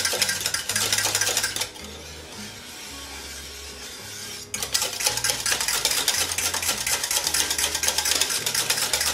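Cake batter being mixed for a Valentine's Day dessert, a steady scraping and rubbing of utensil against bowl that runs continuously, pauses briefly, then resumes close and loud.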